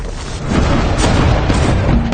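Siege artillery shells the walls of Constantinople, a dense, continuous roar of heavy booms and blasts that stays loud throughout, with no voices.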